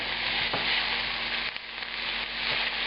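Garlic, olives, capers and anchovy hit a very hot pan, making a steady, close, dense sizzle that crackles on without a break.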